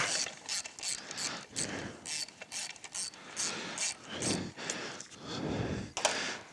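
Wrench clicks and ratchets while loosening a bearing cap during final assembly of an early mass-produced automatic transmission, a run of close, uneven metallic clacks and scrapes with brief pauses and no talk.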